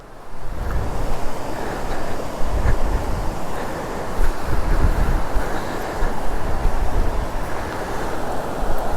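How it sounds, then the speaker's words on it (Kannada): Rushing water at the top of Anjuveedu waterfall near Kodaikanal in winter, a steady, loud broadband roar that stays continuous throughout with no talk. "ಸೊ ವಾಟರ್ ಫಾಲ್ಸ್ದು ಮೇಲ್ಗಡೆ ಪಾಯಿಂಟ್ ಬಂದ್ಬಿಟ್ಟಿದ್ದೀವಿ ನಾವು"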